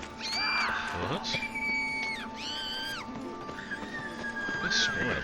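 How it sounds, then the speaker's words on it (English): Distant crowd of people screaming and shouting in The Witcher 3 video game, rising cries layered over a steady low hum, with someone talking over parts of it. "What are they screaming about?"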